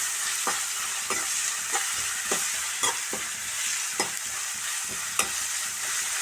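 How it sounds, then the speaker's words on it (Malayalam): Curry leaves and green chillies fry in a pan with onions, a steady close sizzle punctuated by regular spoon clinks and scrapes about every half second. "കുറച്ച് വേപ്പില, ഒന്ന് നേരിയതായിട്ടൊന്ന് ഫ്രൈ ആക്കാം."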